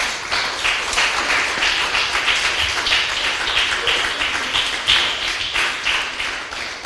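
Church audience clapping loudly after a call to applaud the Lord, a busy, fairly rhythmic patter of many hands lasting throughout.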